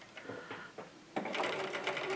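A domestic sewing machine runs a zigzag stitch through fabric, starting with a few short stuttering bursts and then whirring steadily at close range, fairly quiet, with no talk.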